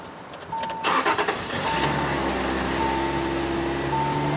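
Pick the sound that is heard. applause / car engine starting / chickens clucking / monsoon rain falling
car engine starting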